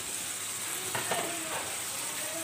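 Vegetables fry in spiced masala for a pabda fish curry with drumsticks, potato and tomato, giving a steady close sizzle with a couple of soft stirring knocks and no voices.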